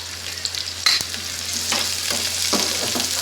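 Thinly sliced onions fry in a pan for a chicken fry, making a steady close sizzle with occasional stirring scrapes and soft knocks, no voices.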